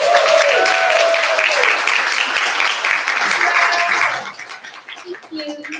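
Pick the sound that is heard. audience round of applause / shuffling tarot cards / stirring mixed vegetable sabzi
audience round of applause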